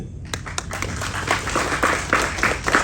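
An audience at a Tamil film event breaks into applause, a dense patter of many hands clapping steadily and loudly for a few seconds, with no voices over it.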